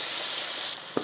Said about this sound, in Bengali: আলু বেগুনটা কিন্তু প্রথমে আমি একটু লাল করে ভেজে নিচ্ছি